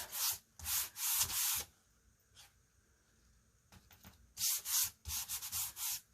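Faux wood wall art being rubbed back to distress its paint and smooth heavy textures, heard as bursts of close, rasping rubbing strokes separated by a quiet pause.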